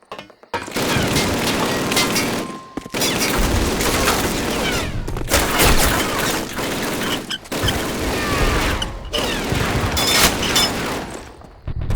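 The Flak 88 gun in the Call of Duty Pegasus Bridge mission fires in heavy, booming blasts, five or six loud shots separated by brief silences and followed by rumbling debris and crashing noise.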